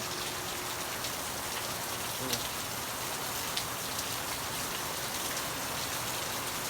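Heavy rain pours down at night in a steady, dense hiss that never lets up, with a few louder drops striking close by.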